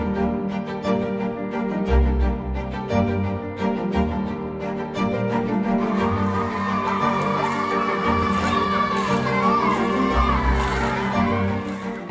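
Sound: excited children screaming and yelling

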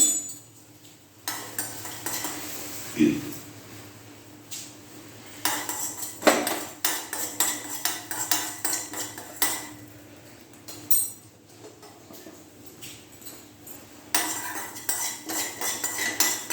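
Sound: roasting fenugreek and mustard seeds in a pan, stirring

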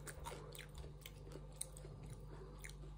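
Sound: chewing crunchy fruit seeds

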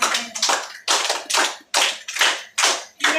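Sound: audience applause for the Early Bird organisation

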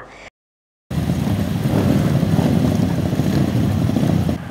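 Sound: supermoto motorcycles racing on a circuit

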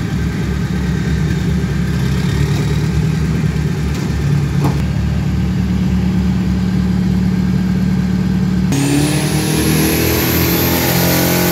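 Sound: turbo drag-racing pickup trucks accelerating

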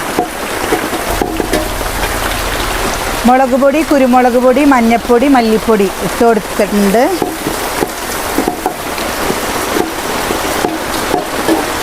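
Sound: heavy rain falling

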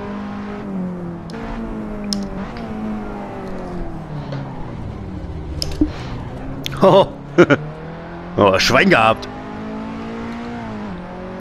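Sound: KTM race car driving laps on Sachsenring, video game

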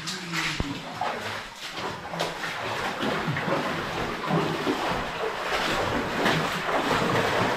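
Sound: water issuing through stone arch in old lead mine

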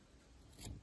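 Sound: scissors trimming the hair ends on a Stablemate model horse

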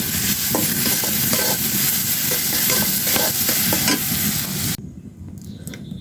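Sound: onion and garlic sizzling in a pan

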